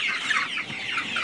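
Several chickens cluck and murmur close by, overlapping soft calls in a busy, steady chatter.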